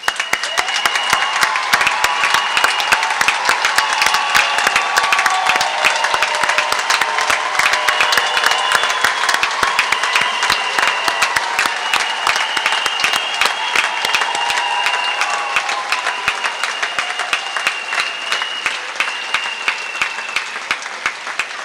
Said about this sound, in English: I think you need to get up and just soak up a little bit of applause